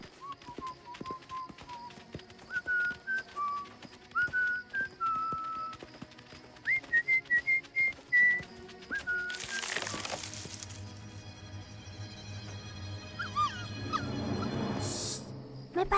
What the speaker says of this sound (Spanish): Ya no escucho el silbido.